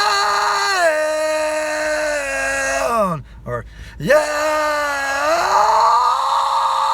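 Vocal fry scream demonstration for adding rasp in the style of Phil Anselmo, M. Shadows and Scott Weiland: close, sustained gritty voiced tones that slide down in pitch, break off briefly, then rise and swell again, with a couple of spoken words.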